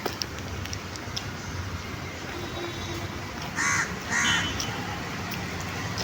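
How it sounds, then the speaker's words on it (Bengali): On a cloudy morning outdoors, a crow gives two short caws about a second apart. They sound moderately distant over a steady hiss of background noise, and no one talks. "কাকটা চলে গেল ওই পাশে উড়ে গেল"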